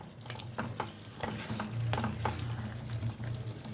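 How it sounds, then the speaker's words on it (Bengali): Potatoes sautéed with spices in a pan, a soft low sizzle with intermittent scraping and clinking from stirring, close and fairly quiet, no voices. "আর এই আলুগুলোকেও মশলার সাথে আমি দু থেকে তিন মিনিট একটু কষিয়ে নেব যাতে আলুর মধ্যে মশলাটা ভালো করে ঢুকে যায়"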